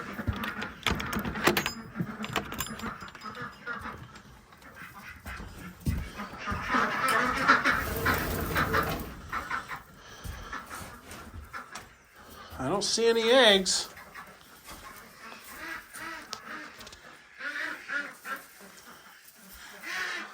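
Ducks quacking inside a duck house on a farm, a few loud honking calls standing out around the middle, heard under near, steady talk from a person throughout.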